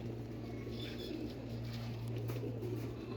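Large pigeons cooing in a fancier's collection, soft low repeated coos against a quiet background, fairly near.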